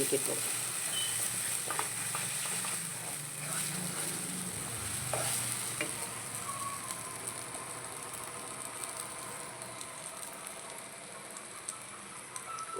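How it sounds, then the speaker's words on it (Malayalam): A ground egg and soybean mixture fries in a pan with chilli, making a soft, even sizzle with light stirring scrapes and a low hum fading after the first few seconds. "നമുക്കതിലേക്ക് ഇത് ഒഴിച്ചു കൊടുക്കാം നമ്മൾ അരച്ച് വെച്ച മുട്ടയും സോയാബീനും കൂടി"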